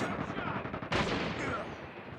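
Automatic gunfire in a Call of Duty mobile match, a rapid rattling burst with a sharper, louder shot or impact partway through and continuing fire after, with game sound around it.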